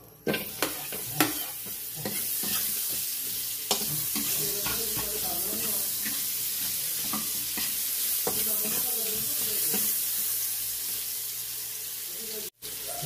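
Onion sizzles and fries in a pan for a Bicol laing dish, a steady bright hiss close up, with repeated scraping and stirring knocks throughout and a brief cutoff near the end.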